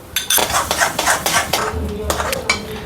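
A spoon scrapes and knocks against a steel bowl as half a bowl of sugar is tipped into cooked sweet potato. The metallic scrapes come in a quick, uneven rhythm and are close and loud.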